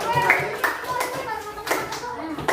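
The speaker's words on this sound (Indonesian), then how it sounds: "tepuk tangan buat kelompok 4" Students clapping in a classroom, a short burst of close hand claps in an uneven rhythm, with children's voices talking over them.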